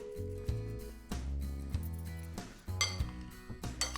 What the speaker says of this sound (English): toss them so they get all covered with the oil